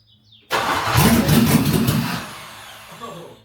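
A Land Rover Discovery 2 with a swapped-in LS engine cranks and catches on its first start, roaring to life abruptly and loudly, then settling toward a rough idle.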